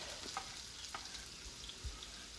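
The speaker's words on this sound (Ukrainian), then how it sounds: "Кидаю на сковорідку ложку смальцю" Soft, steady sizzling of lard frying in a pan, with faint crackles and pops, quiet and close.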